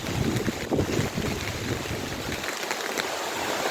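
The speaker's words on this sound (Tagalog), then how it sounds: "Lakas yung hangin." Strong typhoon wind roars across a mountainside garden, a loud, continuous broadband rush with gusty buffeting against the microphone and no voices.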